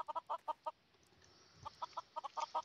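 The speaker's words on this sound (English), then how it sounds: "there was about a million freaking chickens in this little hole here" A crowd of chickens packed into a small hole in the Minecraft video game clucks in quick, fairly faint bursts, one cluster at the start and another after a brief lull.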